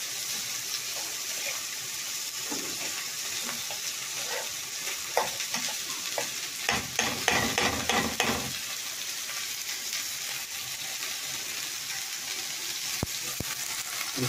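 Vegetables frying and sizzling in a pan with salt added, a steady close hiss throughout with a brief burst of louder stirring and clattering in the middle, no talking.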